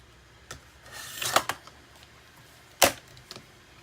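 Scissors cutting paper for a handmade thank-you card, a few close snips including a quick cluster in the middle and one crisp louder cut near the end, in a quiet room.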